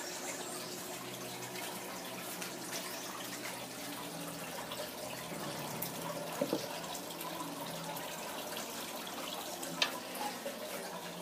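Water trickles steadily through a homemade aquarium refugium's trickle tower and mechanical media, a faint continuous splashing wash with a few brief drips standing out.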